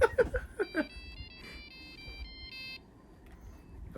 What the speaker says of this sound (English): That's an old cell phone.